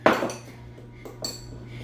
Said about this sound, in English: you're gonna go ahead and you're gonna mash it, mash it, mash it, mash it up, mash it up